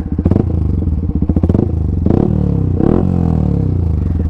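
A Yamaha R15 V3 motorcycle fitted with a full-system exhaust, idling close by with a loud, choppy burble and short revs that rise and fall, with no talking over it.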